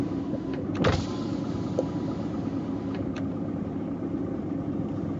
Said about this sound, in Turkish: Arkadaşlar camı buldum. Cam açılıyormuş.